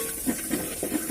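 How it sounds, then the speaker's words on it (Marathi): Dal tempering sizzling in hot oil after mustard seeds and cumin go in, a steady close hiss with small popping crackles scattered through it, fairly loud and alone. "आता मी डाळ फोडणी देते"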